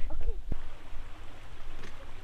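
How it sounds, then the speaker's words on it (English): A creek flooded after three inches of rain rushing past, a steady close gurgling flow with a brief knock partway through and a voice speaking briefly. "Do you hear the creek?"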